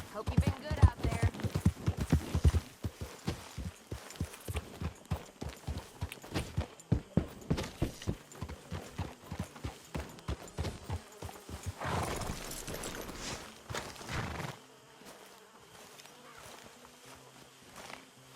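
Horse hooves clip-clop steadily and fairly close in Red Dead Redemption 2, a brisk rhythmic gait that slows and fades near the end, where it gives way to quieter ambience.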